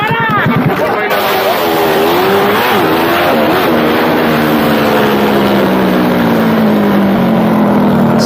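A trail bike engine at a drag race drones steadily and loudly throughout, its pitch slowly sliding down as it winds toward idle before shutting off.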